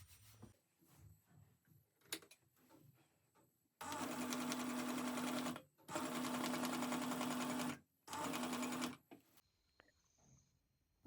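A sewing machine used for machine embroidery stitches a running stitch in three loud, sustained bursts with a steady humming whir. Quiet clicks and handling noises fall before and between the runs.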